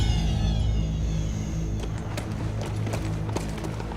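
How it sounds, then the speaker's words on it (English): Horse hooves clip-clop outdoors in the wilderness over a low rumbling background, the irregular clopping growing more distinct through the second half. "Is that a horse?"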